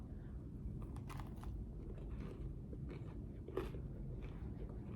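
Someone bites into and chews Famous Dave's cornbread close to the microphone, soft moist munching over a low steady background hum, with a brief sharper crunch partway through.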